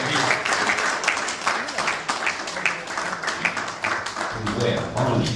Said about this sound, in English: And we said, of course, yes, and please, an applause for all of them, and particularly for Hoda, who's been doing a great job.